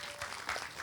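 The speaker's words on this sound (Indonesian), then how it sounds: "Boleh tepuk tangan dulu mungkin teman-teman." Audience applause from a city climate forum crowd, a brief wash of clapping that fills the short moment at moderate level with no voices over it.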